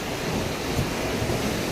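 A large ocean wave breaks on the shore, a brief, dense, rumbling surge of surf filling the air at close range.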